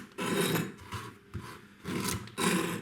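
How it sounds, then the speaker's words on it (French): A knife cuts off both ends of a courgette so it sits straight in a spiralizer, giving several rasping, scraping strokes in close succession, loud and close, with short pauses between cuts. "Le but est de couper les deux extrémités du légume pour que celui-ci soit bien droit dans la machine."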